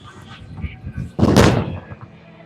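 A Roto Grip Magic Gem bowling ball crashes into the pins, giving one loud, close clatter that fades over about half a second, with murmured voices before it.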